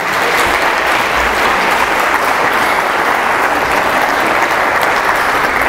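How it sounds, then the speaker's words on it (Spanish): Congregation at a Sunday church sermon applauding, loud, dense and sustained clapping from a large crowd, steady with no pauses, no speech. "Dale un aplauso al Señor."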